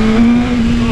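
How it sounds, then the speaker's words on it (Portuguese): A sport motorcycle with dual exhausts roars past close by, a loud, steady engine tone filling the brief moment without any talk. "Roncão diferenciado aí, rapaziada."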